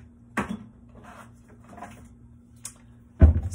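A kitchen cupboard door opening with a knock, then shutting with a louder thud a few seconds later, close by in a quiet room.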